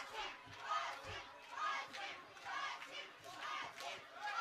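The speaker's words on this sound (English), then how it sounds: "The crowd cheering up Waseem's name after that." A boxing arena crowd at an international bout chants and cheers for the Pakistani fighter Waseem, rising in rhythmic swells of massed voices, heard from a distance and fairly faint.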